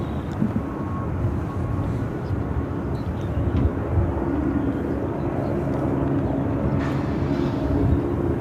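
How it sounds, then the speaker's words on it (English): A WestJet Boeing 737-800 airliner bound for Calgary at Phoenix Sky Harbor airport gives a steady, broadband engine roar that holds even throughout, with no talk over it. "This WestJet 737-800 is headed to Calgary"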